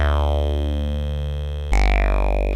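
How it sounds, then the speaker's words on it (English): Synth bass made in Ableton, a thick, basic patch with an envelope-driven filter sweep: a sustained buzzy low note, then a second note attacks with a bright falling filter sweep, heard alone. "we're going to use filter 2 as well to give the same sweeping sound of that chord progression, but for the bass"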